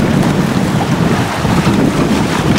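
Wind on a small sailing trimaran, a steady loud roar buffeting the microphone with rushing water underneath and no voices.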